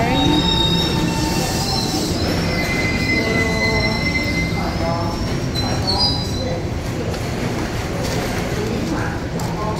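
High-pitched wheel squeal from a near-empty commuter train grinding along the rails, several overlapping shrill tones above a steady loud rumble of the carriage for the whole stretch.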